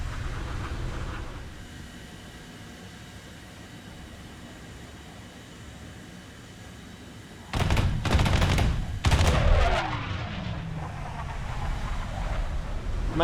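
Cannon fire from a jet fighter in a MiG-15bis versus F-86A-5 Sabre dogfight video game: a loud engine roar gives way to two sharp, dense bursts of rapid shots near the end.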